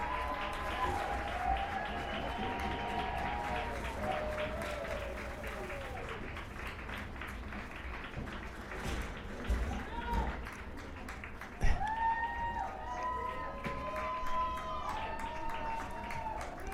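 Crowd applause and cheering for a player being honored at an ultimate frisbee game, a sustained wash of clapping under a commentator's voice, with whistles and shouts rising near the end.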